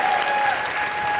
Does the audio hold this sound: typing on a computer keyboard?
no